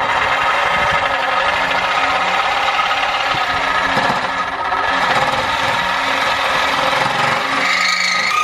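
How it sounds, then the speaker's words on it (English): Loud, continuous rasping of a Harbor Freight hacksaw cutting through a Jeep JK exhaust pipe, with a steady back-and-forth grinding texture close by. "we had to go with the Harbor Freight hacksaw"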